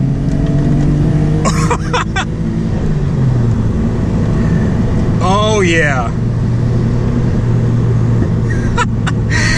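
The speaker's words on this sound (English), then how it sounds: "And you get a little pop from the exhaust back there every once in a while, just to remind you that it's there." A Nissan Skyline GT-R's engine and exhaust drone loudly through a turn, a steady close mechanical roar with occasional exhaust pops, while someone talks over it.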